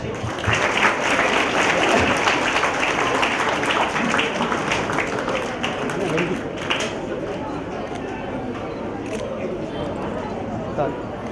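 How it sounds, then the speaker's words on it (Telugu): An audience at a Velama Association Karthika Vana Bhojanam gathering in Ranga Reddy District gives a long round of clapping, dense and steady at first, then gradually thinning while voices carry on underneath. "Please grand claps."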